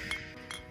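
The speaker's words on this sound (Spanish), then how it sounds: "vamos a hacer un brindis con los agricultores" Glasses clinking in a toast, two short bright chinks close together, near and fairly quiet.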